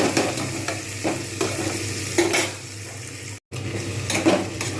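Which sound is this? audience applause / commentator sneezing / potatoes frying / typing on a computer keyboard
potatoes frying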